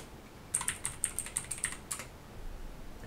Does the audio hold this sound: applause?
no